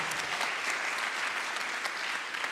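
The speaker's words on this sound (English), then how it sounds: "A round of applause," An audience at a university student founder showcase claps steadily with dense, even applause that holds at a constant level throughout, with no voices standing out.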